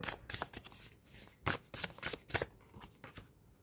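Tarot cards shuffled and dealt by hand at close range, a run of crisp riffling bursts and soft slaps, strongest in the middle of the sequence.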